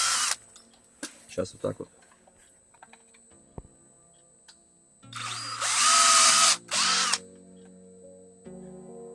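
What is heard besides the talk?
cordless screwdriver drilling motorcycle tire with 5 mm bit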